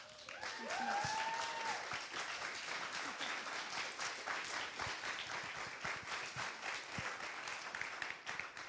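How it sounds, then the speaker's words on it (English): Audience applause at an evening author event and talk on Shakespeare, steady sustained clapping from a full room that holds a fairly even level throughout, with a faint voice near the start. "Can we give Elizabeth and Pete one last round of applause"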